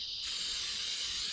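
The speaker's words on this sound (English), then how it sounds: "now I'm going to spray some butter" Butter spray from an aerosol can hisses in one steady, loud, close burst that starts abruptly and holds, at a rainy campsite in Lake Kissimmee State Park, Florida.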